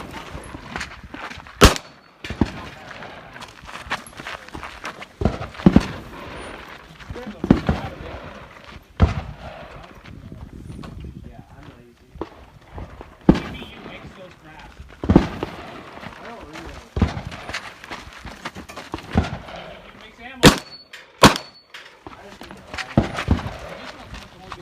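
Pistol shots from a Glock 19 and a Hudson H9 fired at a six-plate steel rack, sharp, loud cracks spaced irregularly across the stretch, some in quick pairs, with people talking between them.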